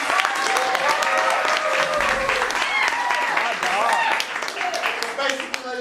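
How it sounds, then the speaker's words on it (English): An improv show crowd gives a round of applause to the finalists, with loud, sustained clapping and a few whoops over it that taper off slightly near the end. "Let's give all of them a round of applause."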